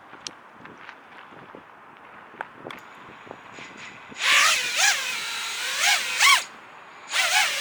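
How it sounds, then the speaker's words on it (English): An Emuflight-tuned FPV quadcopter drone lifts off for a test hover, its motors rising into a loud, whining buzz that surges and dips in several bursts after a quiet start. "I'm just gonna take it up real quick just for a 30-second test hover"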